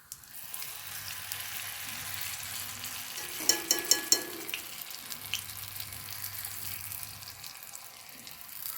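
Kottappam fries in a pan just after being flipped, giving a steady, close sizzle with a brief cluster of light clinks partway through and no talking.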